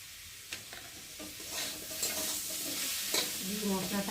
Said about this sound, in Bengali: দিয়ে মশলাটা আলুর সাথে ভালো করে কষিয়ে নেব